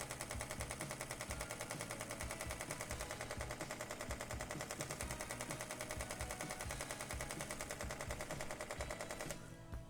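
A Sony A7 IV shutter firing a continuous burst with a CFexpress Type A card, a rapid steady machine-gun-like clatter that runs nearly unbroken and close for about ten seconds before easing slightly at the end.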